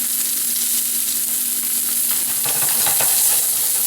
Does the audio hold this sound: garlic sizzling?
yes